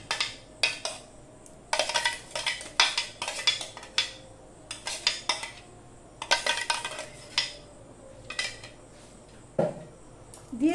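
Metal spoon clinks and scrapes repeatedly against a pan while poha is stirred together with ripe mango paste, a busy rhythm of close, bright knocks with short pauses and no talking.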